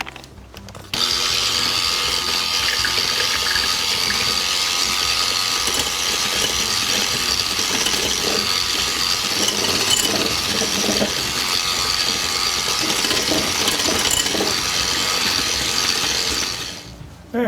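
Limoncello mascarpone cake batter with buttermilk is mixed by machine, making a continuous whirring, lightly rattling motor drone for about sixteen seconds that starts and stops abruptly, with no speech.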